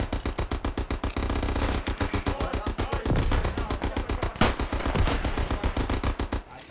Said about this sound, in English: That artillery was perfect.